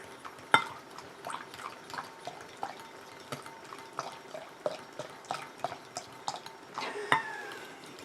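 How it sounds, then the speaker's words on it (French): Water added bit by bit while a cream rinse is being mixed, with faint scattered drips and small clinks of a utensil against a container coming in an irregular rhythm, close and quiet. "Je viens rajouter mon eau petit à petit,"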